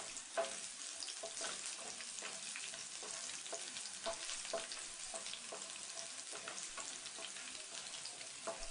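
Garlic shoots and chana dal fry in a pan with steady sizzling, broken up by regular scraping and stirring strokes that run throughout at a moderate level, with no voices.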